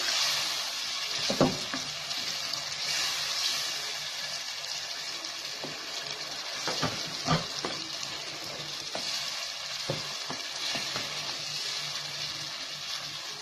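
Ground fried-onion, garlic and ginger masala sizzles with chicken in a pot for coconut milky chicken, a dense continuous frying hiss with scattered louder stirring clatters, close by and with no voices.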